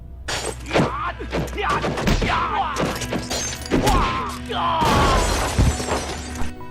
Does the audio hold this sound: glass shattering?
yes